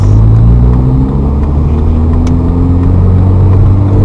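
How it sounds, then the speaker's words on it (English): A manual-transmission car restarts after a stall and pulls away in first gear through a left turn, its engine a loud, steady low rumble with a slowly rising tone close by. "start the car, first gear, clutch up to bite, little gas"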